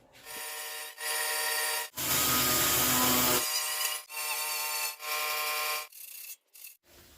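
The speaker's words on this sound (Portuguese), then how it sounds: "Vou estar lixando com a Rokit então, para ficar mais rápido e mais fácil" A Rokit sander works over a rusty metal part in repeated rhythmic strokes, each a harsh rasping burst separated by short pauses, with one longer and louder pass in the middle.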